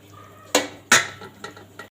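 A metal cooking pot of stuffed vegetables is shaken on the stove, giving two sharp clanks followed by a few lighter rattles, close by and without talk.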